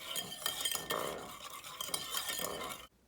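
A utensil stirs gelatin powder into water briskly in a container, with a steady scraping swirl and light clinks for about three seconds before stopping abruptly.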